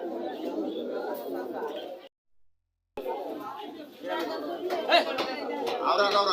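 Pigeons coo and birds chatter at a busy pigeon market, a dense crowded murmur close by with a brief silent gap midway, and people talking among the birds.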